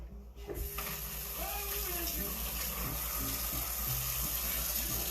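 Hands are washed under a running tap, a steady close rush of water with a brief clatter at the start and faint handling noises beneath.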